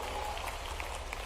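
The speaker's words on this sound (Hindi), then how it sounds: "जोरदार ताली बजाओ" Crowd applause at an outdoor Dussehra event in Maheshwar honoring Rani Ahilyabai's 300th birth anniversary, a dense continuous wash of clapping from a large audience, steady and moderately loud throughout.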